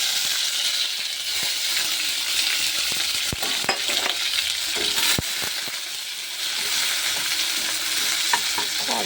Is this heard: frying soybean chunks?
yes